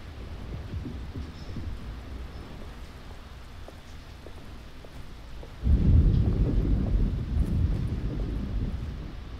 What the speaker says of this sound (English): Just keeping an eye out for the storm.